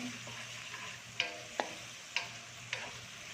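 Pancit bihon rice noodles being stirred in a pan, with four sharp utensil scrapes spaced about half a second apart over a low, quiet sizzle, close and fairly faint.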